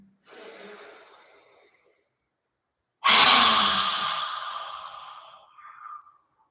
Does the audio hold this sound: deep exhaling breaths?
yes